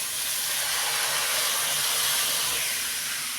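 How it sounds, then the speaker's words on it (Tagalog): Cooking oil sizzles steadily while chicken fries for pastil, a continuous loud, bright hiss that stays even from start to finish with no talk. "Pag ganyan na yung tunog, ang mantika nyo tumutunog-tunog na."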